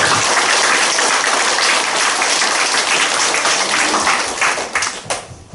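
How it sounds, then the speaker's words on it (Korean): A church congregation applauds the choir after a Christmas Messiah performance. The clapping is loud and full, holds steady for several seconds, then thins and fades at the end. "찬양대에 감사의 박수 한번 보냅시다."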